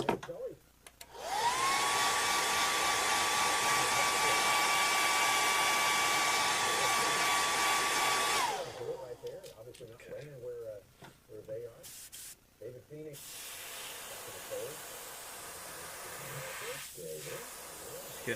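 Paint spraying onto a striper fishing lure: a steady, close airbrush-like hiss runs for about seven seconds, then gives way to shorter bursts of spray and handling noise.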